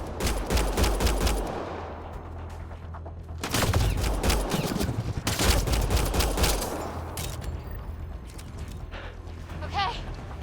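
Gunfire in the video game Mass Effect Andromeda, rapid bursts of shots in several clustered volleys with mechanical clatter between them, loud and near, with brief voices in the background.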